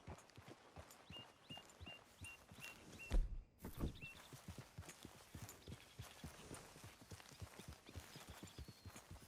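A horse in Red Dead Redemption 2 walks along at an even pace, its hooves clopping in a clear, close rhythm, with a brief louder thump partway through and faint game ambience behind.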